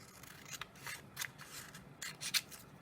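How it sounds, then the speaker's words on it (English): Scissors cutting through old book page paper, a series of close, crisp snips and slicing rasps at an uneven rhythm, quiet and with no talking. "I'm going to cut like this."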